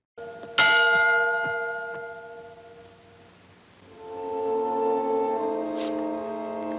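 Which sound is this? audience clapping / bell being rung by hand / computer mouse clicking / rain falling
bell being rung by hand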